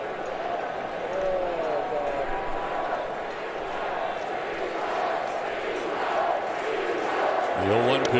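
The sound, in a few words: baseball crowd chanting "replay"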